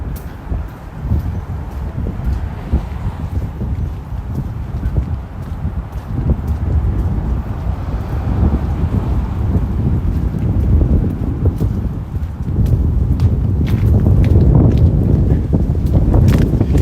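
Strong, cold wind sweeps along historic Marlboro Street in Boston's Back Bay, buffeting loudly with low, gusty rumbling that builds toward the end, with faint footsteps underneath.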